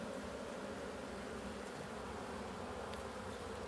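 Honey bees humming steadily inside the Ostia hive, a dense continuous buzz heard up close with no voices.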